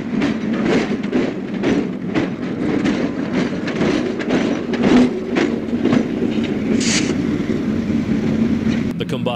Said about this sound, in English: Northbound Pan American South Wind arrives from Nashville.